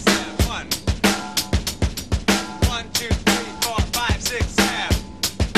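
Drum kit groove in 7/8 time, a repeating seven-count pattern of kick, snare and cymbal hits played steadily and close, loud and alone with no talking.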